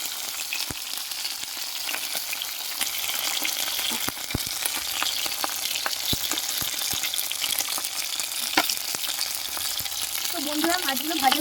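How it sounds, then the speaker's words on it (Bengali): Fish sizzling and frying in hot mustard oil in a wok, a steady, dense crackle with scattered sharp pops and spits throughout, close and continuous with no talking. "এবার আমি মাছগুলো ভেজে নিব।"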